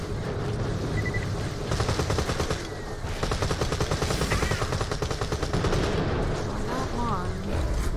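Turret gunfire in the video game Borderlands: The Pre-Sequel: rapid automatic bursts rattle loudly and almost continuously, with short pauses between volleys and occasional electronic tones mixed in.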